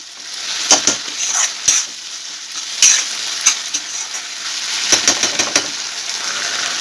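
Chilli mushrooms with chilli sauce being stirred and fried in a pan: a loud, continuous sizzle punctuated by irregular scraping and clinking of a spatula against the pan, close up and with no talking.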